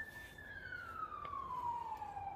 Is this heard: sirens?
yes